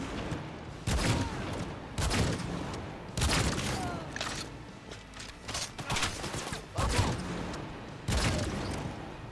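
Bursts of gunfire in a Cyberpunk 2077 gun battle on Xbox Series X, several loud broadband volleys at irregular intervals with dense game noise between them.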